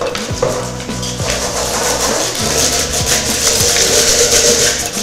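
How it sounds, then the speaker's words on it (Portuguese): Sandpaper rasps back and forth over a painted transparent bowl in quick, steady strokes, a close, continuous scratchy rubbing with no voices. "Esse processo de lixar não tem o objetivo de tirar toda a tinta"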